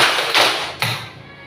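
A classroom of children claps twice on command during a clapping game, two quick, loud group claps with a roomy echo.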